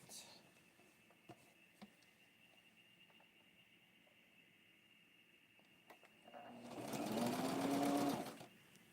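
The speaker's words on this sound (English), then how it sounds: "now I'm going to prepare this to sew onto the dress" A sewing machine stitches a ruffle onto a doll dress, running in one loud, steady burst near the end after a stretch of quiet handling noises.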